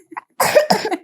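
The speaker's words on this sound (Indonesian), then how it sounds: "Batuk dia." A child gives a loud, close cough in two quick bursts after a soft brief catch of breath.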